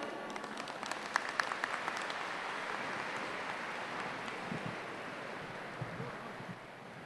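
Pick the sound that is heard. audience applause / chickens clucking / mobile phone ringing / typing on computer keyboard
audience applause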